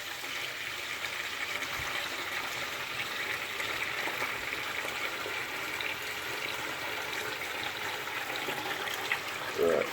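Water runs steadily down an unblocked sink drain, a continuous hissing, gurgling flow heard close up with a brief splash near the end.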